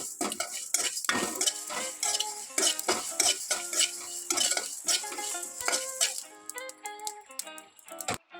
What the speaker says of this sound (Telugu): 1 స్పూన్ మందం మెంతులు, ఇది దూరగా వేపుకోవాలి.